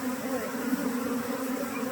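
A honeybee swarm being caught buzzes steadily and close by, a continuous droning hum of many bees wavering slightly in pitch, with no talk over it.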